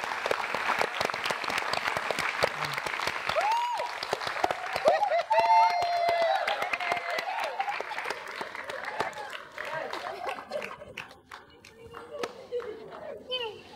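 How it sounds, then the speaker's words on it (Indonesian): Loud, sustained applause from a large crowd, dense clapping with excited children's voices and chatter mixed in. "saat kamu mendengar tepuk tangan yang sangat banyak dan keras sekali"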